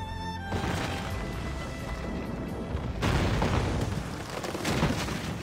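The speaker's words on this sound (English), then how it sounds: "Cannon ready. Ease off the wind! Put a shot through her there. Fire!" Naval cannon fire in the Assassin's Creed Rogue video game, with deep booming blasts over a continuous rumbling battle din, one sharp onset about halfway through and heavy surging low-end throughout.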